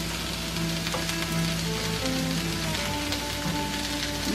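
Tomatoes and pineapple roasting on a hot griddle for salsa, a steady close crackling sizzle with soft popping throughout, even in level and heard alone.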